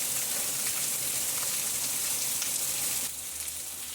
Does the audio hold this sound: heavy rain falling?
yes